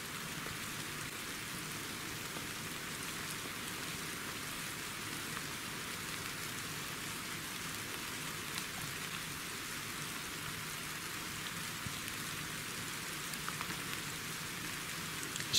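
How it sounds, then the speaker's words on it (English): Heavy rain pours down continuously at a medieval ruin in Norfolk, a dense, steady hiss of drops hitting surfaces with no pauses. "It's really starting to get quite heavier with the rain."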